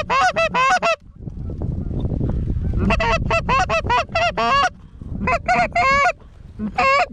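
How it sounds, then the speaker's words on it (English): Geese honk over a silage corn field in repeated bursts of loud, close calls, with a gap of wind or rustling noise between the flurries. "Oh, there's some geese right there."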